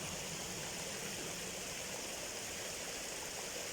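Continuous river water rushing and flowing, a steady broadband wash close by with no breaks and no voices.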